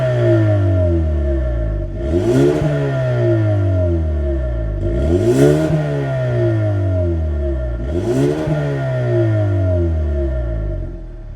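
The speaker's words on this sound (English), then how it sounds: "So let's hear how this Sonata N-Line sounds." A 2024 Hyundai Sonata N-Line with a 2.5-liter turbo engine and functional quad tip exhaust revs three times in a steady cycle, each rise climbing to a sharp peak before falling back to a throaty idle, loud and close.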